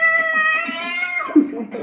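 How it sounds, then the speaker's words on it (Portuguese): A cat meows in a long, drawn-out, wavering cry that slides downward, close and clear, followed by a brief soft thump. "Miau, miau, tem um gato."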